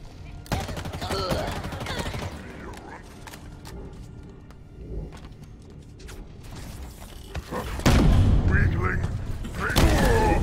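Bursts of assault rifle fire in the Halo Infinite campaign, loud, rapid volleys over game effects and explosions, with a player talking throughout.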